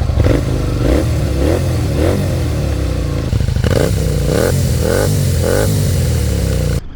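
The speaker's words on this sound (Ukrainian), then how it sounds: "Чесно вам скажу, звук на мотоциклі просто клас." A Honda VTR 250 motorcycle engine idles with a steady low rumble, then revs up repeatedly in short rising bursts, loud and close, with no talking.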